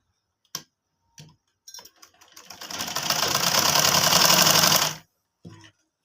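Sewing machine stitching folded kurti trouser fabric: a few isolated clicks of the mechanism, then a steady run of rapid needle ticking that builds and stops abruptly, followed by one more short click.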